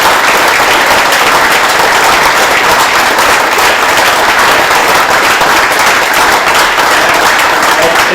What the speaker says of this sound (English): The applause for them is 60 years well overdue.